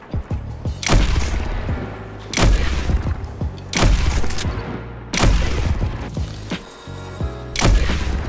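Sniper rifle gunfire in the video game Destiny 2: five heavy, booming shots land roughly every second and a half, each loud and close with a rolling decay, and no talking.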